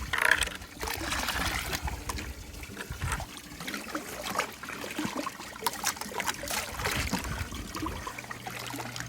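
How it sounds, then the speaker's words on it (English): Liquid pouring and trickling into a backyard swimming pool as pool shock and water are added, a steady splashing dribble that continues for several seconds. "You just pour it in and just add water."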